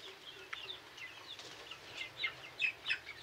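A flock of around 150 free-range chickens on a poultry farm cluck and chirp at close range, with scattered squawks growing busier toward the end.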